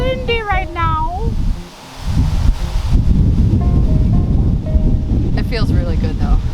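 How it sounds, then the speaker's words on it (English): Strong wind on a flower farm roars and buffets the microphone in a steady low rumble, with a voice talking briefly at the start and again near the end. "The winds are really picking up."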